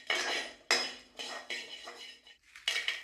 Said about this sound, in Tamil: உப்பு சேர்த்து வறுத்து எடுத்துக்கலாம்